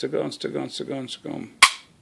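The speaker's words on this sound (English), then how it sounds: "And here is your second trigger break." A single sharp click of a firearm's trigger breaking rings out near the end, loud and close, just after a few seconds of someone talking.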